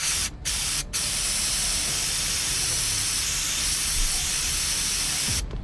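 A whole can of carb cleaner sprayed onto a big block boat engine, a loud steady aerosol hiss that runs almost unbroken, with two short pauses near the start and one more just before the end.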